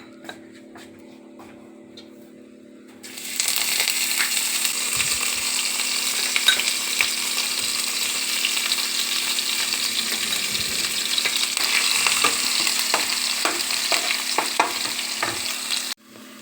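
Onion paste with dry red chilli, whole cumin and cinnamon pieces hits hot oil for a jackfruit kabab, bursting into a loud, steady sizzle after a quiet start, with intermittent clicks of stirring against the pan.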